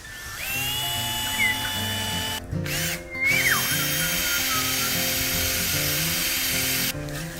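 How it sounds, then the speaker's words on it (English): A power drill pre-drills holes in wood for screws going into a tree in a rainforest, giving a steady, close, continuous whine with small shifts in pitch and two short pauses. "So I'm really excited about being able to pre-drill again"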